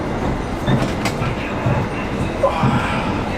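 An Indonesian executive-class train runs from Jakarta to Malang, heard from inside the carriage as a steady rumble with rhythmic wheel clatter throughout, with faint background voices.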